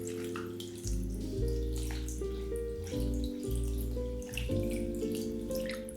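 Tap water runs steadily into a bowl to rinse red lentils, a continuous close splashing and gurgling stream with shifting tone as the bowl fills, and no voices over it.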